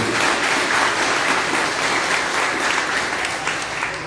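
A church congregation at an evening revival service applauds, a dense and steady wash of clapping that stays loud and even for the whole stretch.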